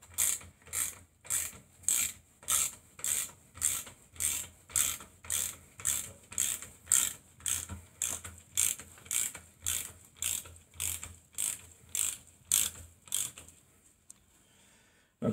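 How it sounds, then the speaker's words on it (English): The head of a Bridgeport milling machine is cranked up by hand, giving a steady, evenly spaced series of about twenty ratcheting clicks, close and clear with no talk. "Now I can crank the head back up to get it out of the way."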